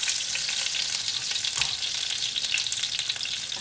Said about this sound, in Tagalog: Gigisa na tayo.